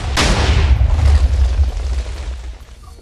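A cannon fires in the WarGear video game, a single loud deep boom whose low rumble hangs and slowly fades over a few seconds, with no talking.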